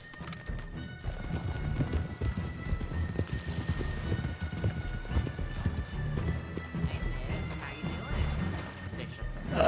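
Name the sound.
horse hooves clip-clopping in a video game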